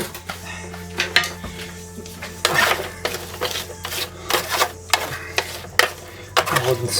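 A wooden spoon stirs potatoes with pink Himalayan sea salt in a pot, making a steady run of rhythmic scraping and rubbing strokes, close up, with no talking.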